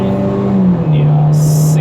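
Engine of a 2018 Toyota Innova X pulling harder as it accelerates from 60 km/h, a steady droning hum from inside the cabin with a brief gear-shift dip midway, continuous and moderately loud.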